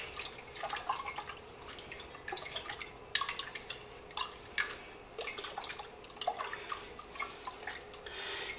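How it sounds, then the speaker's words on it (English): A spoon stirs fireweed jelly mixture in a pot, making soft, irregular liquid ticks and light taps against the pot, faint and steady throughout with no voices. "I'm just going to give this a little bit of a stir."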